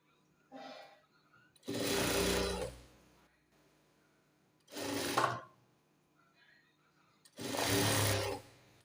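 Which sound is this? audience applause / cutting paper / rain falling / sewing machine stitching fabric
sewing machine stitching fabric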